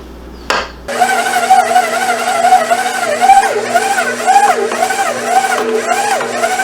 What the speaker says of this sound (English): We'll go ahead and mix this together in the mixer.